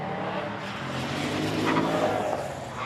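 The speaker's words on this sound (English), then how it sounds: "that is a former Carrera Cup car converted to a rally car in recent months. And doesn't it sound good?" Former Carrera Cup Porsche converted into a rally car passes on a stage at Victoria Park, its engine a steady loud roar with a swelling note through the middle, heard at moderate distance with no talk.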